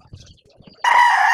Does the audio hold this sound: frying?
no